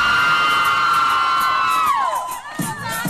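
Crowd at the 2004 Beenie Man vs Ninja Man dancehall show screaming, a loud, continuous high-pitched roar that sweeps downward and dips before a fresh burst of cheering.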